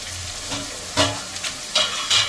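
Garlic, green chilli and ginger frying in oil for a veg tadka dal, a continuous close sizzle broken by a few louder bursts of stirring and spatula scrapes, with no voices.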